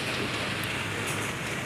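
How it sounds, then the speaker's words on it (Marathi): Monsoon rain falls steadily outside near a parked vehicle, making a continuous dense hiss of drops striking the surfaces close by, with no voices. "पाऊस बघूया आपण आज."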